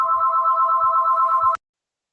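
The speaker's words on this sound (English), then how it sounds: "The phone just had to ring, right?" A telephone rings indoors with one steady electronic ring lasting about a second and a half, loud and close, then cutting off into silence.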